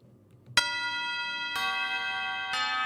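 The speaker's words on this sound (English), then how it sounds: "that's what I heard was a school bell" A school bell chime in the video game Memories Off, three clear ringing tones struck about a second apart, each sustaining and overlapping the next, heard alone.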